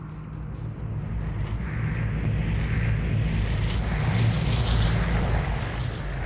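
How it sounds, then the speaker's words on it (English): Airdrop plane in the Vigor video game flying overhead, a broad rumbling propeller drone that swells steadily louder and holds, alone without talk. "The plane is near. Get ready for the airdrop."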